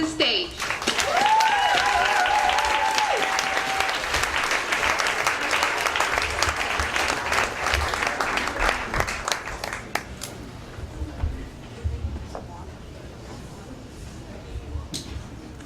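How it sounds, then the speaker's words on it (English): Warm audience applause welcomes a speaker to the stage at a storytelling event, a sustained crowd of clapping with a held tone early on, gradually thinning out over several seconds. "Give a big applause to Indy and welcome her to the stage."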